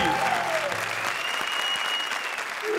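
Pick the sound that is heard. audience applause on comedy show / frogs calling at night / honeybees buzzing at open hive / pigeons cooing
audience applause on comedy show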